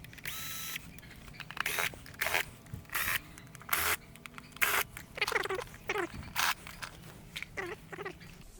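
A power screwdriver whirs in short repeated bursts, removing Torx screws from the air filter housing of a TVS Jupiter 125 scooter, close and fairly quiet with clicks and handling noises between runs.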